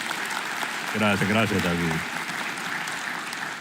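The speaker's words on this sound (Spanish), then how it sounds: "Un aplauso para eso." Church congregation applause, steady clapping throughout with a voice speaking briefly over it partway through.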